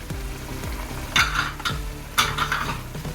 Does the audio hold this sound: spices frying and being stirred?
yes